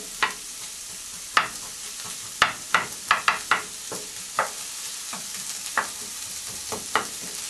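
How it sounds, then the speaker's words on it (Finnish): Onions frying and sizzling in a pan, stirred now and then so sharp scrapes and clatters stand out against a steady close hiss, with no talk over it. "ihan paiseta sipulia, että ne tärähtää pannulla"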